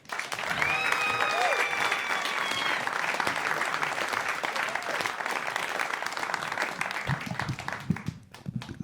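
An audience claps loudly and steadily for a comedian at a stand-up show, with whoops rising over dense applause that tapers off as a voice begins speaking.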